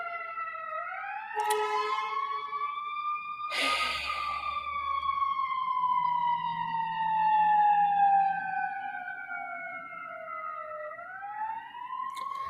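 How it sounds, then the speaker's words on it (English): A wailing siren rises and falls steadily for several seconds, fairly close and loud, with a brief sharp bang partway through. "excuse the siren"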